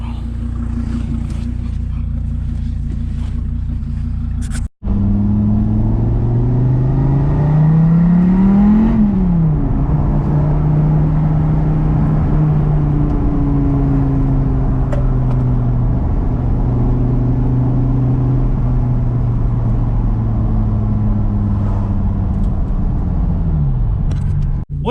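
A Dodge Viper drives with a loud, deep engine drone, rising and falling through gear changes and shifting revs, heard from inside the car with a brief break in the middle.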